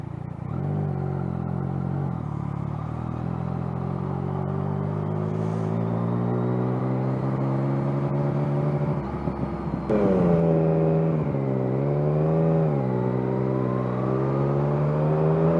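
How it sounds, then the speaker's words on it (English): Motorcycle engine idling and creeping through traffic, a steady loud rumble with rising and falling revs and a sharper rev surge partway through, no talk over it. "Nothing like sitting in traffic."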